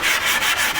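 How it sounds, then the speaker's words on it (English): Steady rubbing and sanding on the edges of a wooden foyer table, a bright scratchy hiss pulsing in quick strokes, loud and close with no voices. "Sanding away. Just kind of soften up the edges on it before I put these other pieces on here."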